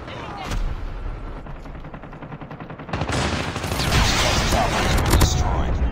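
Gunfire and a deployed sentry gun in the Call of Duty Mobile shooter, with a RUS-79U rifle in play: dense, loud automatic bursts that thicken after a short lull and keep rattling continuously, with faint voice callouts mixed in.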